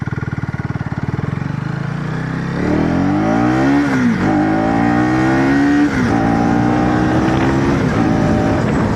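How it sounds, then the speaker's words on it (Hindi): A KTM Duke 250 Gen 3 motorcycle pulls away in first gear, its single-cylinder engine revving hard and climbing in pitch through two loud, close surges with no speech. "अभी 1 गियर पे है, और 1 गियर पे इसको पुल अप करके देखते हैं"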